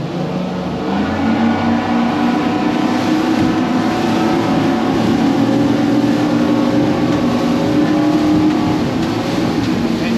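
Loud outboard engines on a 2023 Cobia 350, a 35-foot boat, roar steadily as it gets on plane, the deep rumble building with the rushing wash of water as the hull speeds up.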